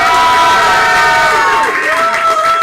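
An audience at an improv comedy show cheering and shouting, a dense, loud crowd roar with raised voices throughout, nearby and continuous.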